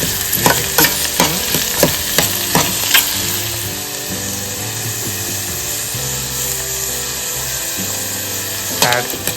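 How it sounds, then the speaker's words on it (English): Onions with green chilies, turmeric and salt sizzle steadily in a pan for a yogurt curry, with a run of quick scraping stirs early on and a few more scrapes near the end, no talking. "stir well and cook the onions till soft."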